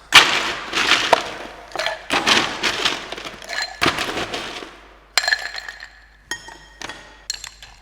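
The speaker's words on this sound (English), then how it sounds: "Add ice to the mixing glass." Ice cubes tumble into a cocktail mixing glass in a series of sharp, bright clinks and clatters, several bursts of cubes knocking against glass and each other, close and loud.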